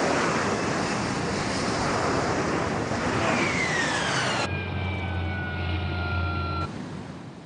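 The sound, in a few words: Harrier jump jet hovering at full engine power over sea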